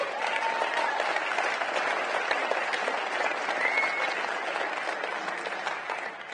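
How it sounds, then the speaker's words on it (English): A round of applause at a football stadium, steady crowd clapping heard from a little distance, even and sustained for several seconds with faint voices mixed in. "So can we just put a round of applause"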